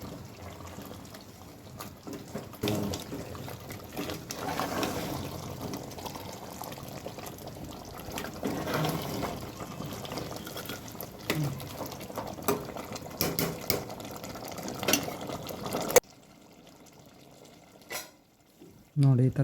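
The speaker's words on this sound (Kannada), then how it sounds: "ನೋಡಿ, ಈ ಥರ ಚೆನ್ನಾಗಿ ಕುದಿ ಬರಬೇಕು." Mutton kurma curry bubbles at a boil in a pot, a soft continuous simmering under a person talking, and the sound drops away near the end.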